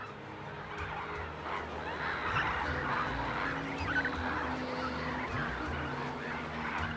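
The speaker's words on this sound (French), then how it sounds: "ce lac est le rendez-vous des oiseaux migrateurs qui vont de l'Europe à l'Afrique" Flocks of migratory birds, such as flamingos and storks, call from a desert oasis lake in the Sahara. Dense honking and cackling carries on steadily from a moderate distance, with no one talking.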